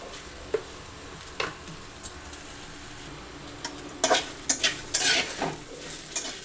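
Cumin seeds fry in a pan for mint chutney, giving a soft sizzle broken by scattered sharp crackles and pops that cluster toward the end, with no talking.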